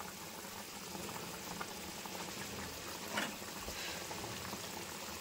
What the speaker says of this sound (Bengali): ঝোল ফুটে গেছে, এখন